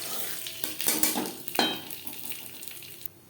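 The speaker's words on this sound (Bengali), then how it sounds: "কড়াইতে আবারও তেল দিয়েছি। ফোড়নে দিয়ে দেবো 5 ফোড়ন।" Panch phoron five-spice seeds hitting hot oil in a wok: a loud burst of sizzling and crackling that flares for about a second, then settles into a softer, fading hiss, close up with no talking.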